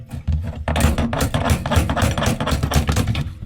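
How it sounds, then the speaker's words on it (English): Rapid series of hard metallic strikes, a hammer hitting a pipe fitting on a well tank again and again in an irregular rhythm, close and loud. "I should be able to wiggle this and kind of hit it just with my hammer"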